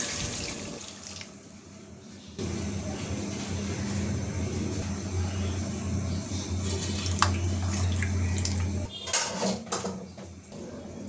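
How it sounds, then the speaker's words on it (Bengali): Water poured into a pan of sautéed pumpkin curry, a steady rushing pour over several seconds with brief clatter near the end. "এখন দিয়ে দিচ্ছি পরিমাণ মতো পানি।"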